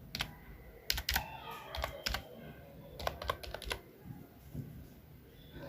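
Code is tapped out on a mobile phone in a C programming app as sharp, close clicks, some in quick clusters and some spaced apart, over a soft background hum and with no voice.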